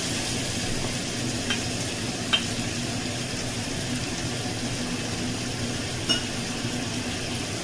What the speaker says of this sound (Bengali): এবার কাজু বাদাম বাটা, চালমগজ বাটা দিয়ে দেবো